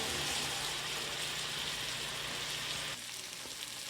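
Salmon fillets searing flesh side down in a hot pan, giving a steady loud broadband sizzle and crackle with no voices, easing slightly toward the end.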